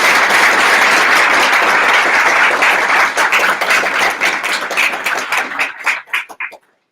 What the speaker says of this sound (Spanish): Les pido ahora un aplauso a los autores.